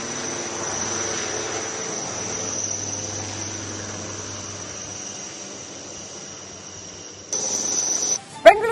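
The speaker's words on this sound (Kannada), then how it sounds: "ಬೆಂಗಳೂರಿನ ಎಚ್ಎಲ್ನಲ್ಲಿ ಇವತ್ತು ಧ್ರುವ್ ಎನ್ಜಿ ಹಾರಾಟ ನಡೆಸಲಾಯಿತು ಯಶಸ್ವಿಯಾಗಿ ಹಾರಾಟ ನಡೆಸಿತು" An HAL Dhruv NG light helicopter at HAL Bengaluru lifts off with a steady high turbine whine over broad hiss, then a sudden louder burst of engine noise near the end.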